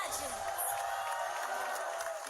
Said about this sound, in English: Guys, one last cheer before we get into the game